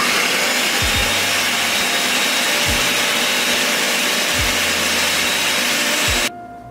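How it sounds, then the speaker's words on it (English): A kitchen blender whirs loudly and steadily as it blends ingredients, with a few low periodic thumps beneath the motor roar, then cuts off abruptly near the end. "Now we blend it."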